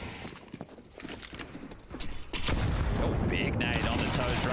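A grenade goes off in a Counter-Strike 2 match: a heavy, sudden blast about halfway through, after scattered clattering shots, then a sustained rumbling roar that holds to the end.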